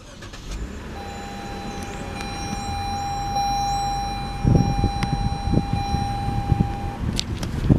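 A 2014 Lexus IS250 AWD is push-button started: a steady electronic chime holds for several seconds, then the engine cranks and catches up close and settles into a loud, even idle with a few clicks.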